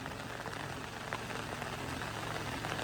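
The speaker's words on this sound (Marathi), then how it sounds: "अजून पाऊस चालूच हा. पाऊस थांबत नाही." Rain falls steadily, a soft continuous patter of drops on surfaces, fairly faint and even throughout with no voices.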